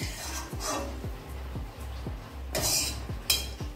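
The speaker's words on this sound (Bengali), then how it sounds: "30 সেকেন্ড ভেজে আমি এই জিরেটা তুলে নিচ্ছি" A spoon scrapes and taps inside a pan as fried cumin seeds are lifted out, making a steady series of close metallic clinks with light sizzling behind, no talk.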